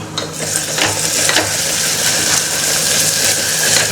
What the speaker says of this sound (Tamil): இஞ்சி பூண்டு பேஸ்ட் போட்டு நல்லா வதக்கியாச்சு